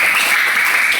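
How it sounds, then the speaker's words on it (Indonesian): Students in a classroom give a short, bright round of applause for all the groups, close to the microphone and filling about a second. "Tepuk tangan untuk semuanya."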